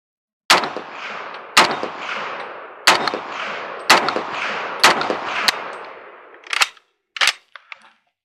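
Original World War II guns fired at an outdoor range, marking the 80th anniversary of D-Day: a series of sharp, loud single shots spaced about a second apart, each with a ringing decay, ending in a few quicker, fainter reports.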